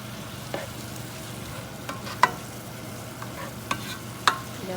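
Zucchini and summer squash sautéing with minced garlic in a pan, a soft continuous sizzle with a few sharp clicks and scrapes of a utensil, quiet and close, no speech.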